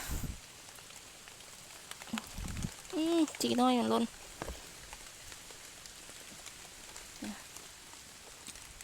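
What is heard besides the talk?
rain falling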